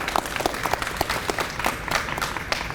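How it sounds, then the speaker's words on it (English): An audience at a gym opening press conference and ribbon cutting in Cleveland gives a councilwoman a round of applause, with lively, uneven claps and some crowd murmur. "Let's give her another round of applause if we could."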